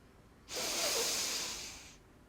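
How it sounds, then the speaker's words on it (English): A slow exhale through the nose during a Kriya Yoga energization exercise, heard as one soft, steady breathy hiss lasting about a second and a half, close and quiet, with no talking. "when we exhale with double breathing through the nose, we release the tension"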